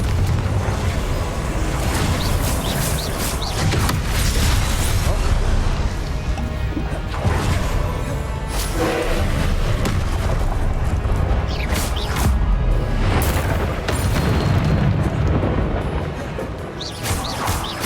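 Repeated Confringo fire-spell blasts in Hogwarts Legacy, a dense, continuous barrage of loud booming explosions and crashes with no pauses and no talking.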